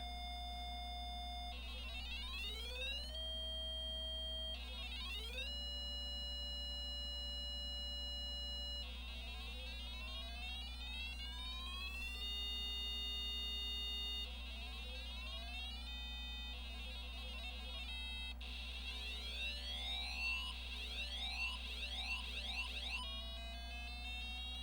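Growly sliding computer sound effects from a program drawing a star that moves down the screen: repeated electronic tones sweeping up and down in pitch over a constant low hum, continuous and fairly loud with no talking.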